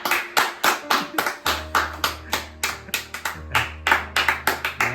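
A group claps at a church Bible doctrine school camp: several seconds of close, fairly brisk applause made of many overlapping hand claps.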